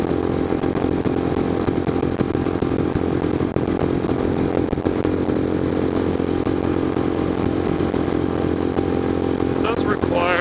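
A Royal Enfield Scram 411 motorcycle engine pulls hard near wide open throttle, a steady, loud mid-pitched drone with strong low harmonics running unbroken throughout, with a short higher whine appearing right at the end.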